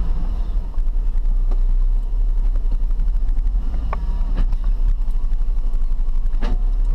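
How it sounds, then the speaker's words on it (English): A 1999 GMC Sierra C1500 two-wheel-drive pickup drives along with a steady, loud engine and road drone, its clunky clutch adding irregular knocks under the continuous rumble. "Kind of hear that the clutch is a little clunky."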